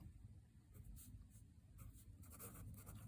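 Pen or marker strokes scratching out a linear equation by hand, a steady run of short scribbling bursts close to the writing surface, with no talk.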